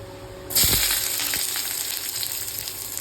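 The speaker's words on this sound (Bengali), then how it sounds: "পটলগুলো ভেজে নিয়েছি হালকা হালকা করে, লাল লাল করে। একটু ভালো করে ভাজবো।" Pieces of pointed gourd (potol) sizzle in a hot pan, a sudden loud hiss that starts after a short quiet moment and then settles into an even crackle, with a few faint knocks and no talking.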